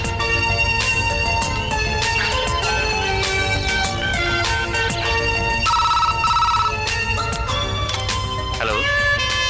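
A telephone rings with a steady electronic ringtone, its bright repeating tones rising over a dense, loud musical bed for the whole stretch.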